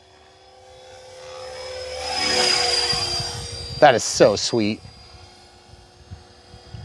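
A Blade 330S radio-controlled helicopter flies outdoors, its rotor whine swelling and fading as it passes, while someone speaks briefly near the end.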